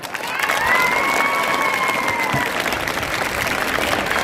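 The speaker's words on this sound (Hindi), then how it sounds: "आपका इनाम 10 सेकंड की ये ड्रामे के लिए तालियां होनी चाहिए।" Steady applause from a school annual function audience after a short student drama, a dense wash of clapping with some cheering and children's shouts, loud and sustained throughout.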